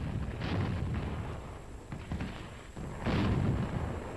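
A howitzer fires on an enemy machine gun position up a hill, giving two heavy, rumbling booms about three seconds apart, each with a low, drawn-out roll.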